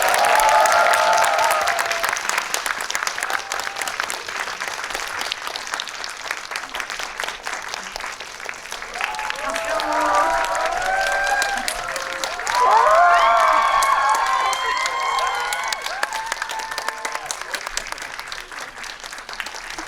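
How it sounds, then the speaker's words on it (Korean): Audience applause with crowd cheering welcomes a film's director and cast onstage at a Korean movie event, a loud sustained roar of clapping that swells again midway and carries on throughout. "큰 박수로 맞이해주세요."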